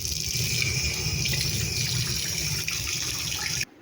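Tap water runs steadily into a wok being washed at a kitchen sink, a full, even gush for several seconds that cuts off abruptly at the end.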